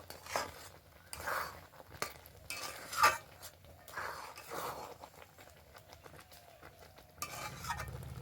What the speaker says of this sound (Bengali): ড্রাই ফ্রুটসগুলো দেওয়ার পর আবার একটু ভালো করে নেড়ে চেড়ে নেব।